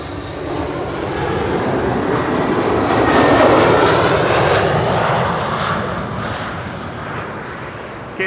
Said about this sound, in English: KLM flight 1930 arriving from Geneva.